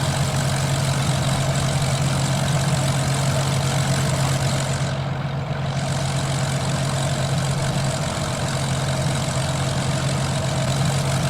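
A simulated P-40B Tomahawk warbird engine idles after start-up in Microsoft Flight Simulator. It is a steady, low, throbbing drone with a constant hum, with a brief softening midway, and there is no talk.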